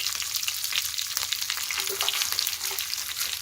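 Green and dried red chillies frying in a pan, a dense, steady crackling sizzle heard up close with a few small pops and stirring scrapes, no voices.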